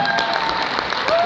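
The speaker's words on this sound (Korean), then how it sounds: "박수 부탁드립니다." An audience at a seminar talk breaks into dense, loud applause that continues unbroken for the whole short stretch.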